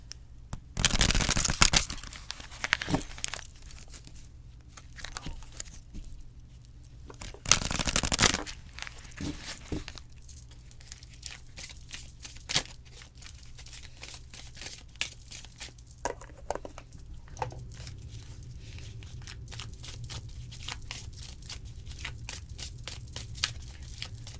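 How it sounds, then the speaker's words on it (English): Oracle cards from a small deck shuffled up close: loud riffling bursts near the start, then a long run of quick, crisp flicks and taps that continue steadily. "I know you can hear me shuffling, so that means you know that I'm still shuffling."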